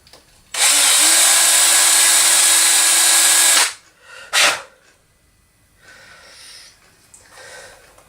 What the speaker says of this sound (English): Just going to see if I can't drill back through that a little bit to connect up.